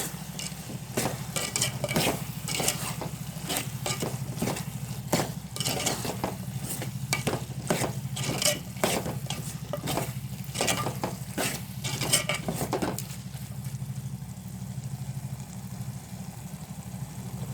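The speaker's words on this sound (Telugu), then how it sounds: "అన్నీ కలిసేలా ఒకసారి కలుపుకోవాలి ఫ్రెండ్స్." Bean and tomato curry with added chili powder being stirred in a pan, with a steady run of scraping strokes over a low sizzle, ending in quieter simmering.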